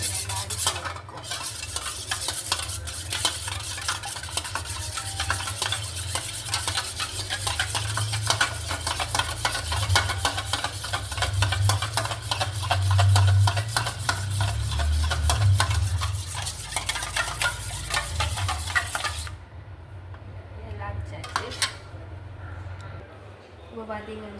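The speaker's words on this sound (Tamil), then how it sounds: "ஒரு முட்டை தான் நல்லா அடிச்சு வச்சுக்கோம்." An egg is beaten in a bowl with a rapid, steady stirring and whisking clatter that runs close and continuous for about twenty seconds before stopping.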